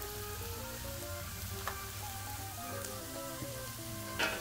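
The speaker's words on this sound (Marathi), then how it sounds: "सगळं व्यवस्थित परतायचं परत एकदा" Dried shrimp, sukat, sautés with spices and kokum pieces in a pan, giving a soft, even sizzle at moderate distance with a couple of faint tapping clicks and no speech.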